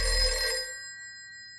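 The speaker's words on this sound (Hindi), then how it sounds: "बज गई घंटी।" A telephone bell rings once with a bright metallic trill that cuts off and leaves a lingering hum.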